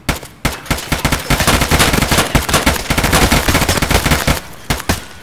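Sustained automatic gunfire from Escape from Tarkov, a Halloween special match, with rapid bursts rattling almost continuously for several seconds, loud and close, before trailing off into a few spaced final shots.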